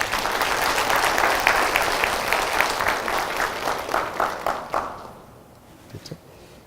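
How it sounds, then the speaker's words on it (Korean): A lecture audience in a hall applauds at length, loud dense clapping that thins into scattered claps and fades out toward the end. "다시 한번 큰 박수 부탁드리겠습니다"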